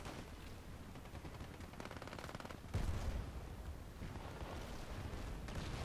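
Gunfire from the video game Battlefield Play4Free, with rapid continuous automatic fire rattling throughout. It grows louder and denser partway through, with no pauses.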